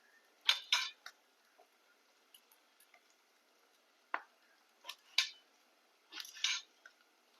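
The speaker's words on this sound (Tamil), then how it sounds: "நான் ஒரு ரெண்டு கத்திரிக்காய் இல்லை மூணு கத்திரிக்காய் அரிஞ்சு பார்த்துட்டு" A knife chops brinjal (eggplant) on a board in a home kitchen, giving sharp irregular clicks and taps in small clusters with quiet gaps between, close by and fairly soft.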